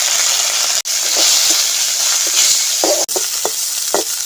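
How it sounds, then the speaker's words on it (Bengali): Neem leaves frying in mustard oil with a little salt, a loud close hiss with a few sharp clicks and scraping stirs near the end, no talk. "এবার আমি নিম পাতা ভেজে নেব"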